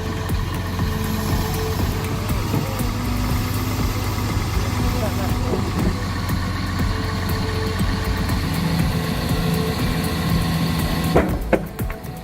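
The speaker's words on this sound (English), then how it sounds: "using another Cat excavator to remove the surrounding mud and create a gentle slope, making it easier for the excavator to move" Cat excavator engine running steadily while working in mud, a continuous mid-pitched diesel drone with clanking and rumble throughout, and a brief louder knock near the end.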